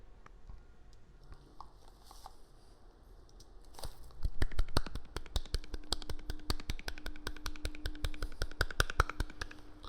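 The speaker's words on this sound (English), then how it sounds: "you'll hear me just do clapping because it's going to be kind of a good test for the delays" Rapid, sharp hand claps in a steady stream, each one echoing through a delay effect that smears them into a dense rhythmic patter over a faint hum.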